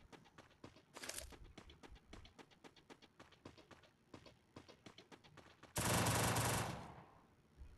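Thompson submachine gun fire in the Free Fire mobile game, heard as a series of rapid, sharp bursts with an especially loud, sustained burst near the end, plus scattered short gunfire cracks throughout.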